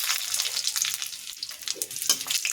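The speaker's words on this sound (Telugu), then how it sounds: "చట్నీకి ఆవాలు వేసాను ఎండుమిర్చి వేస్తున్నా" Mustard seeds and dried red chillies sizzle loudly in hot oil for a chutney tempering, a dense, close, crackling hiss with sharp spattering pops throughout, with no talking.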